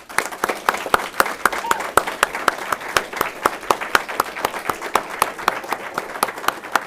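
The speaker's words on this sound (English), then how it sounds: "Let's give these folks a round of applause" An audience applauds at an Alaska State Trooper valor citation ceremony, with sharp, rhythmic unison claps close by over a steady bed of crowd clapping, cheers mixed in.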